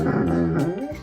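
A Great Dane dog growls low and whimpers continuously at close range, a sustained, whining vocalization that rises and falls without any talking.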